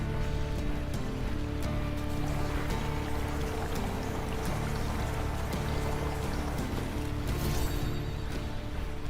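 Steady, dense rain pours in a video game, a continuous broadband hiss and patter at constant loudness with no pauses and no voices over it.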